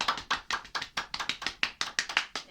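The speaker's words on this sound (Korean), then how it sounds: "생명나무 복음방송 박수로 시작하겠습니다." A group claps in a steady rhythm to open a Korean gospel broadcast before a gathered audience, with sharp, evenly spaced claps close to the listener and no talking.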